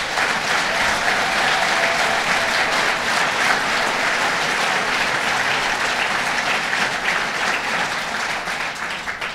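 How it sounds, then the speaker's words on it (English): Loud, sustained applause from a large audience, dense clapping that holds steady for several seconds before easing slightly at the end. "let's give Trudeau a round of applause"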